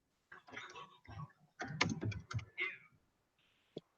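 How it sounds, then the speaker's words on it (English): Keyboard typing in a short burst of quick clicks and taps, fairly close and moderately loud, with a single sharp tap at the end and no talking. "cause I can hear you typing."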